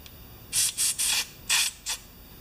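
Carburetor cleaner sprayed from an aerosol can at the bottom bolt of a Briggs engine on a Craftsman self-propelled mower: five short, loud hissing bursts of varying length, close up, with no talk.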